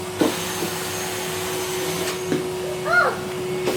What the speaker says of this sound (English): You gonna hoover in there for me?